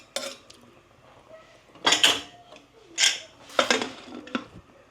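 A lid goes onto a cooking pot of rice and dal simmering over a low gas flame, giving several close metallic clanks and clatters of cookware against cookware with quiet pauses between them.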